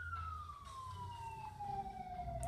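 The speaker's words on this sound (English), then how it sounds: "let this ambulance pass" An ambulance siren in a video game sweeps in a long falling tone as it passes, moderately distant over a low engine rumble.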